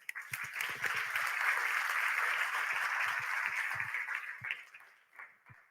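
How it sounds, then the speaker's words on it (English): A conference audience at WebCongress Bogota breaks into steady, full applause that swells and holds for several seconds before tapering off, with a few nearby claps and thumps standing out. "let's give another round of applause for Owali and the amazing WebCongress team."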